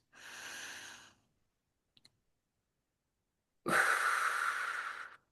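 Two slow, deep breaths, a long inhale then a fuller exhale, are heard close up in a quiet room, separated by a brief soft click.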